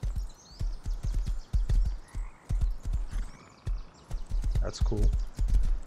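Horses at a ranch in the video game Rust, their hooves clip-clopping in a quick, steady rhythm close by, while a voice speaks briefly over them.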